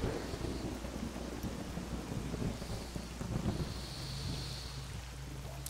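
Heavy rain pours steadily in the survival game Misery 2.1.1, a dense wash of downpour with low rumbling thunder rolling underneath, loud and continuous with no talking.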